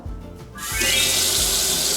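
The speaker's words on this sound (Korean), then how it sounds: "물을 틀고 이렇게 물이 튀질 않아요" A waterfall-style kitchen faucet is switched on after a brief thump, and a smooth, steady stream of water runs into the sink, loud and close for the rest of the moment.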